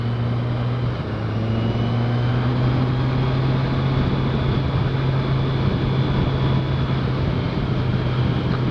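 A 2015 Kawasaki Z1000SX sport-touring motorcycle engine pulls steadily on the road, a loud continuous drone with a low steady hum and rising, sustained tone, heard alone without talk.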